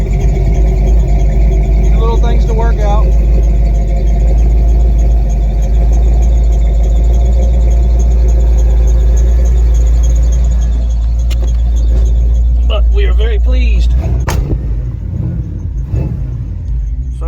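A big block engine in a lifted squarebody 3+3 crew cab long-bed 1-ton truck idles loudly and steadily, a faint belt squeal riding on the rumble, while someone talks over it near the end.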